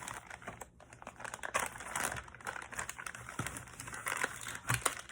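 Plastic crinkles and rustles in quick irregular bursts, close and fairly quiet, with no talking.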